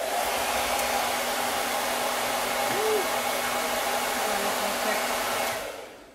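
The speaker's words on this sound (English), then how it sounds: "you can always kind of blow dry it too to get the dampness off of it" A hair dryer blows to dry a damp Chalk Couture stencil, giving a loud, steady, close whooshing whir that runs without a break for about five seconds before shutting off and winding down.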